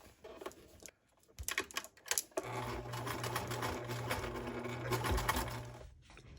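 A sewing machine stitching through thick layers on a garden pouf, opening with a few halting clicks and bursts before settling into a steady, close motor drone, then stopping abruptly.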